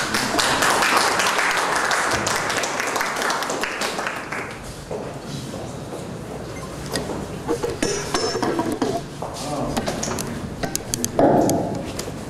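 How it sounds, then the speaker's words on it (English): An audience at a book launch claps in a scattered, clattering round of applause that gradually thins out into sparser individual claps, heard close with faint voices underneath. "Round of applause"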